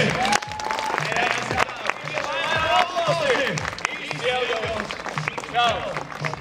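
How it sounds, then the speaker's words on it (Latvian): Crowd applause at a karting event, loud and close, with cheering voices and people talking over the clapping throughout. "Jā, aplausi!"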